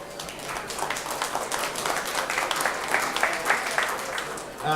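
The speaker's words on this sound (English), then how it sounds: "So give yourselves a round of applause." Club members at an anniversary celebration applaud themselves, a moderately loud, continuous patter of many hands clapping through the whole stretch, with a murmur of voices beneath.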